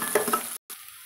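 Shallots and curry leaves fry in a pan for tomato sambar, a soft sizzle with stirring scrapes, then a brief gap before quieter frying resumes.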